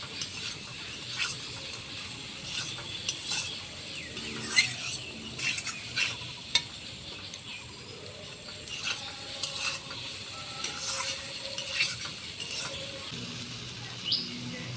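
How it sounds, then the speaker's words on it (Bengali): Potato and pointed gourd pieces frying in spiced masala for a prawn curry, with a steady low sizzle under repeated scraping stirs of a spatula in the pan and faint birdsong in the background. "মশলার সঙ্গে আলু পটলটাকে আরেকটু কষিয়ে নেবো"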